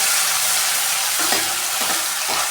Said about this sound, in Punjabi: ਪਿਆਜ਼ ਨੂੰ ਉਦੋਂ ਤੱਕ ਭੁੰਨਣਾ ਜਦੋਂ ਤੱਕ ਇਹ ਬਰਾਊਨ ਨਹੀਂ ਹੋ ਜਾਂਦਾ